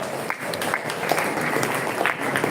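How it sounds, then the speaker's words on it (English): Applause from a small crowd during a live stream, a brief, moderate burst of scattered clapping that stays fairly even throughout, with no speech over it. "Once again, a round of applause for living school."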